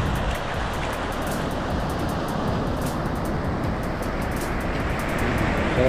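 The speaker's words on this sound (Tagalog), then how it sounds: "Sarap ng pakinggan yung ano, ocean." Ocean surf washing onto a beach in Mexico, a steady broadband roar of breaking waves that holds at an even level throughout, close and continuous with no voices.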